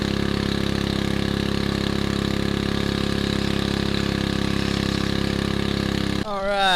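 A gold mining rig's motor runs during a test, droning loud and steady close by with a constant hum for about six seconds before it cuts off abruptly.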